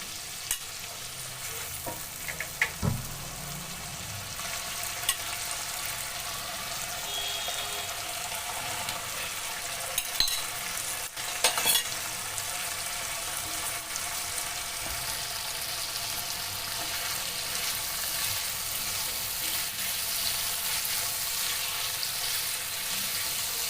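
Spice paste loosened with a splash of raw milk being stirred and fried in a pan with pre-fried prawns, a steady low sizzle under scraping of a spoon, with a few sharper clinks and knocks against the pan.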